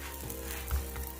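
Moroccan batbout flatbread, stuffed with kefta and vegetables, sizzles in a frying pan as a close, steady crackle with small pops, heard alone and without voices.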